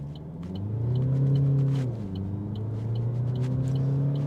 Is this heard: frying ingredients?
no